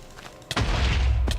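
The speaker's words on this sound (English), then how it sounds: "It exploded." An explosion in a Minecraft nuclear tech mod: a sharp crack followed at once by a heavy, rumbling boom that swells and holds near, with another thud at the end.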